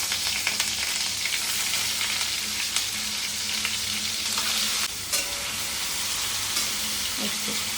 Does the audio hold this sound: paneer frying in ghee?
yes